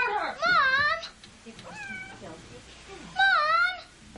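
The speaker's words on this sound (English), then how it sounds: "It was the cat." A cat meows loudly in two distinct drawn-out cries, close by, with a shorter softer mew in between and brief voices around them.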